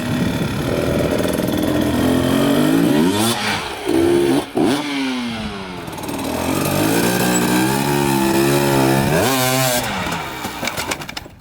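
A dirt bike engine, ridden in an enduro setting during a slow wheelie, runs loud and close, its revs swelling and dipping with throttle and clutch, briefly cutting out twice before climbing again.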